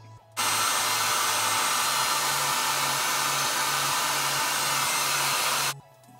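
A hair dryer blows on freshly bleached hair: a loud, steady rush of air with a constant motor hum. It switches on abruptly, runs evenly for about five seconds and cuts off sharply, with no talking.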